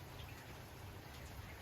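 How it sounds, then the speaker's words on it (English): Rain falls steadily outside under an overcast sky, a soft even patter with scattered droplets and no talking. "even though the sky is overcast and it's raining"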